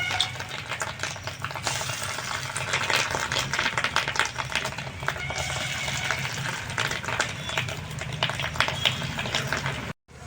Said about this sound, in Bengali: তা চলো ডিমের বড়াগুলো যেভাবে ভাজে ওইভাবে আমি ভেজে নেব।